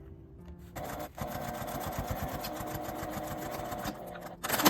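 A sewing machine runs steadily, stitching the outer edge of a square box pouch for several seconds with a fast, even mechanical chatter, briefly pausing near the start and ending with a louder burst.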